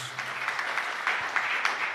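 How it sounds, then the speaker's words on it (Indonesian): Members of a congregation clap for Jesus in a dense, moderately loud round of applause that carries on evenly for about two seconds, with a few sharper claps standing out. "Tepuk tangan yang meriah bagi Tuhan Yesus"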